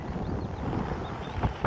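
Steady wind buffets the microphone on an exposed Derbyshire hillside among perched boulders, a continuous low roar with a couple of stronger gusts near the end.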